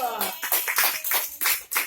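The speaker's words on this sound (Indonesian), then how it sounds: "Tepuk tangan dulu." Classroom clapping from students after a correct answer, short uneven bursts of hand claps in a small room, close and fairly loud, mixed with some voices.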